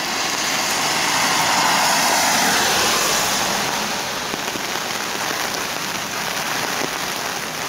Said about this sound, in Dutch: En het regent.